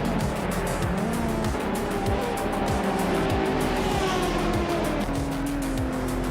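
A Radical SR3 race car howls through a race, engine revving steadily with rising and falling pitch as it shifts through gears, tires squealing intermittently, loud and continuous.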